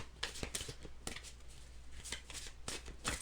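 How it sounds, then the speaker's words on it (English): Tarot cards being shuffled by hand indoors, a series of quick riffling bursts and soft card slaps in an uneven rhythm, close and fairly quiet with no talking. "While you're listening to me shuffle, please like this video."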